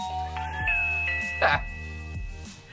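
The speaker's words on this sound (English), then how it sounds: "a chime went off here, a chime went off here, a chime went off in the plug socket, and a chime went off on Amazon Alexa" A video doorbell's chime rings out on several devices at once, with overlapping tonal ding-dong notes from a wall plug-in chime and an Amazon Alexa speaker, layered against a steady background hum with a brief voice midway.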